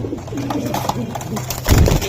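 A pigeon at a pigeon market coos softly nearby in low, throaty murmurs, with a muffled voice and a brief rustle of movement close to the microphone.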